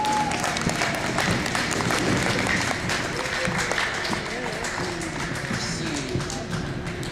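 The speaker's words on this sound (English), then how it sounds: "So give them a round of applause, and I'll just turn it over to them." An audience at a youth conference gives the youth council a round of applause. Dense, even clapping and tapping fill the room for several seconds, with crowd murmur mixed in.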